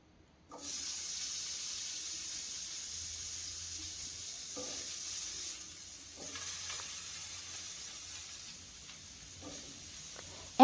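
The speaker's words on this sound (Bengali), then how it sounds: "এখন এই আলুটাকে হালকা একটু লাল লাল করে ভেজে নেব।" Potatoes frying in hot oil in a pan over a medium gas flame, a steady soft sizzle and hiss throughout with faint clinks, no talk.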